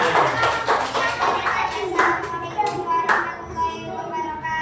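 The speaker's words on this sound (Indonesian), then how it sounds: "Tepuk tangan." Several people clap hands in an indoor classroom session, a steady stream of claps with children's voices chattering throughout.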